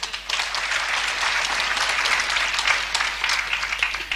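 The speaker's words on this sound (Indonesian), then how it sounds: "Tepuk tangan." Audience applause at a church sermon, steady and fairly loud clapping from a crowd that continues throughout.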